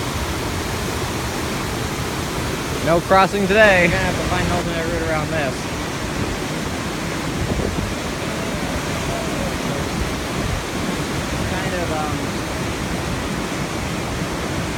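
High floodwater rushes past in a loud, continuous broadband roar near a submerged walkway, while someone talks briefly over the torrent.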